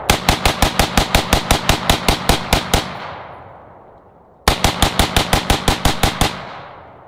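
An AR-15 rifle fires at a pumpkin outdoors in two loud, close bursts of rapid shots, about fourteen then eight, each shot sharp and echoing, with a fading ring after each burst and no talk.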